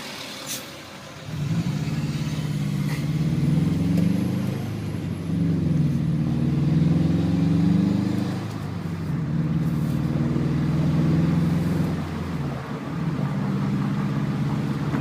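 A 2011 Subaru WRX engine with a manual gearbox revs up loudly, dips briefly, then climbs again in long steady pulls as it works through the gears, shifting at 3,000 RPM, with no talking.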